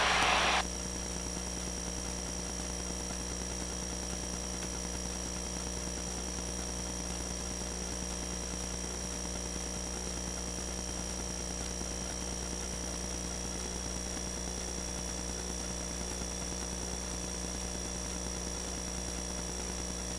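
Small airplane on approach to runway 29 at Potomac Airpark, Berkeley Springs, WV: a steady, loud engine drone with constant hum and propeller buzz, unbroken throughout, heard from inside the cabin.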